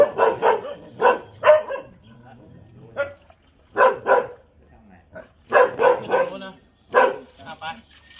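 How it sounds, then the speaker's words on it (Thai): Several dogs bark in loud, irregular bursts close by, with brief yips between them, during a rescue worker's encounter with an aggressive pack; someone talks over and between the barking. "ไอ้หมาพวกนี้มันยุ่งจริงเว้ย"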